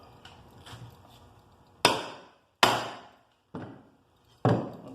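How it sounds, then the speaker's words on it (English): Chisel struck with a hammer to cut 3/32-inch steel snare cable, four sharp ringing metallic blows spaced about a second apart, each decaying quickly, close and alone. "I just use that chisel, and there you can see you get a good cut on it"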